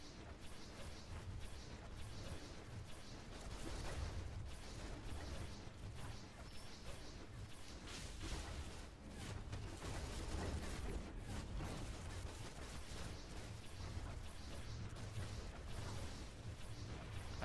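Dual pistols fire in rapid succession from tech backup allies in the superhero game DC Universe Online, a dense, continuous barrage mixed with crashing impacts and whooshing effects throughout.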